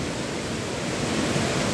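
Flowing water of the Río Metal, a steady broadband rush of river current that stays constant and fairly loud throughout, with no voices.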